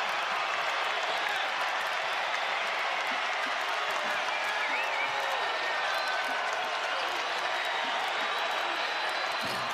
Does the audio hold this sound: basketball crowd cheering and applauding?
yes